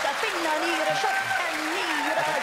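A theatre audience claps for a comedy duo's stage act, steady applause running throughout while a voice sings or talks loudly over it.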